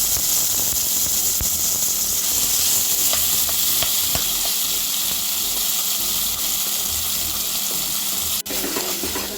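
Amla pulp sizzles steadily in hot ghee in a pan, a loud continuous frying hiss with faint scrapes and clinks of stirring, heard alone without talk.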